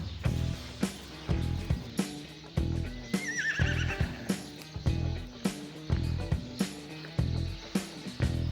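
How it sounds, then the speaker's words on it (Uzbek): A horse whinnies loudly in the middle of the clip, with foals nearby at a village gathering in Javog, Yakkabog district, over steady rhythmic thumping and a busy background. "ariqlarda ham toylar bor"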